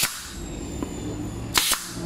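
A pneumatic nail gun fires into a wood workpiece to tack it in place, two sharp close snaps in quick succession near the end after a faint earlier click, over a quiet workshop background.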